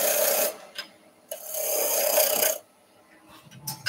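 A beading tool cuts into a turned wooden sun hat box spinning on a lathe, giving two close, sustained raspy scraping passes separated by a brief quieter pause, with no talking.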